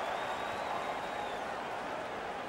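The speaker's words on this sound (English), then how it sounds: "The crowd is all over them right now." Arena crowd noise in the NHL 15 hockey video game, a Canada versus Germany match, a steady roar of cheering and applause that holds evenly throughout without dropping off.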